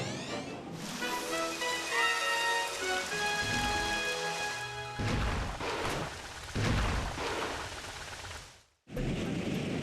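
Rain falls in the Gold Leaf Galaxy level of Super Mario Galaxy as a steady patter over the game's music and effects, with rising tones and a few heavier thumps, briefly cut by a silent gap near the end.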